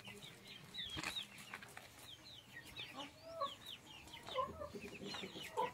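Chickens cluck and chatter in a backyard coop holding Angola, Brahma and meat breeds, several birds calling in short overlapping bursts close by, with a brief crow-like call among them.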